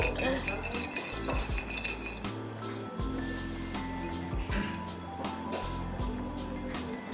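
Folded paper question slips are shaken and rattled inside a container, giving a busy run of clattering, scraping knocks with a few brief pauses, close and fairly loud.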